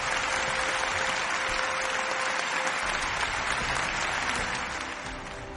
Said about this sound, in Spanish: ¡Un aplauso, tío!